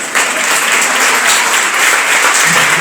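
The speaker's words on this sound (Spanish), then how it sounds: "Aplaudan" Loud, dense audience applause fills the whole stretch at a steady level, with a crowd clapping close and continuously at a public talk on feminism and lesbian visibility.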